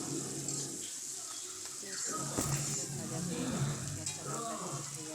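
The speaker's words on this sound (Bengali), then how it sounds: "লাল লাল করে ভাজা হয়ে গিয়েছে আমার প্রায়" Chicken pieces fry Bengali-style in a pan, giving a steady close sizzle broken by intermittent scraping and clinking as they are stirred, with a voice faintly audible beneath.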